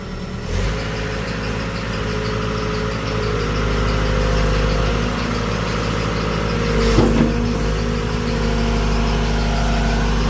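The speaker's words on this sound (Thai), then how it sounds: "เสียงสายพาน นั่นน่ะนะสายพาน สายพานยนต์นั่นแหละ" A running vehicle engine idling with a slack drive belt, a steady engine hum with a continuous whining, fluttering tone on top and a brief rise in noise partway through.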